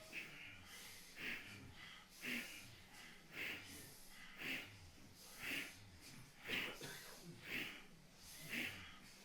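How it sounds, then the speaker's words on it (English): Powerful, rapid rhythmic breaths in a kundalini yoga class, about nine forceful pulses at roughly one per second, each a breathy snort-like rush, close and fairly quiet overall. "as powerful breathing as you can"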